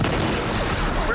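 Automatic defense guns firing in the animated Intruder 3, a dense, continuous rattle of gunfire lasting about a second, loud and close, with voices talking over it.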